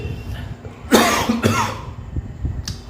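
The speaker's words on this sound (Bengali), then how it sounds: "সরি এখনও কাশি কমেনি" A couple of sharp coughs close to the microphone, one after another, followed by a quieter, hushed room with faint background noise.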